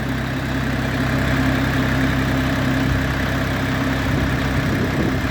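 A Jinma 244 tractor engine runs steadily at low revs in crawler gear, a constant deep rumble and drone with no pauses or voices.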